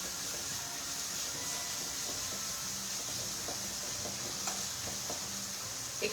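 Food frying in a pan is stirred after ground black pepper is added on a live cooking show, giving a steady close sizzle and hiss with scattered light scraping clicks throughout.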